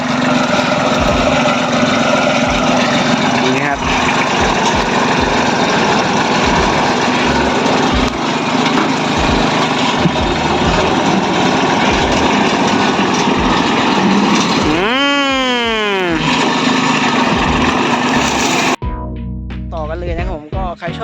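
A small single-cylinder engine on a small modified farm tractor runs continuously at a high, buzzing pitch, with a brief rising and falling rev near the end.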